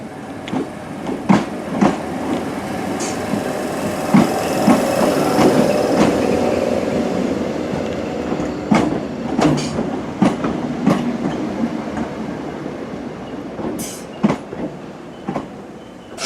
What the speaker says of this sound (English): So I'm going to join on the train now to head back to Glasgow Central Station.